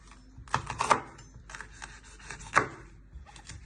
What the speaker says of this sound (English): Now you want to slice your pepper down the middle.